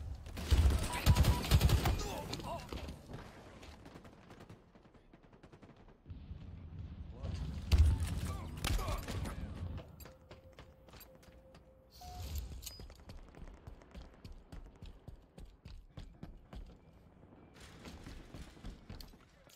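Gunfire in the video game Halo Infinite during a capture-the-flag match comes as bursts of rapid shots and heavy blasts, loud early and again around the middle, with an in-game announcer voice speaking briefly.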